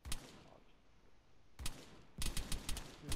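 Gunfire in Arma 3 during a co-op insurgent raid on Zargabad: a few loud, isolated shots break a quiet, hissy background, then a quick cluster of several reports follows near the end.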